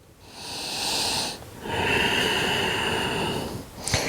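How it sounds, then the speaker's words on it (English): Soft oceanic Ujjayi breathing during a slow yoga forward hang, steady hissy breaths drawn close to the microphone, two long exhalations with a short pause between, ending in a brief snort-like catch. "I'm using a very soft oceanic sound to the breath. We call this Ujjayi breathing."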